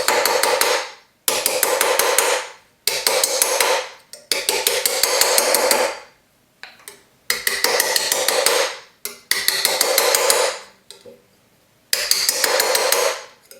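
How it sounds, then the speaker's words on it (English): Bursts of rapid metallic hammering on a metal cuff bracelet being shaped ring out in repeated runs of quick taps, each run separated by brief pauses, loud and close. "set up the camera for the hammering"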